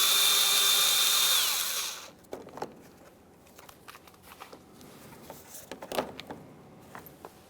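A power driver fitted with a T15 bit buzzes loudly for about two seconds while removing a mounting bolt near the front parking sensors of a 2017-2024 GMC Acadia, followed by quieter scattered clicks and handling noises.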